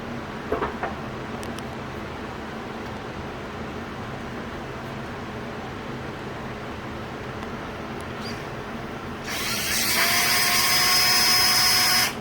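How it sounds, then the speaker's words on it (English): A drill whirs steadily at low speed, churning two-part primer with a mixing paddle, after a stretch of quiet room noise. "Always start the drill on low speed."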